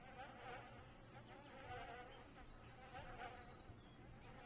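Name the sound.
bees buzzing in the video game The Town of Light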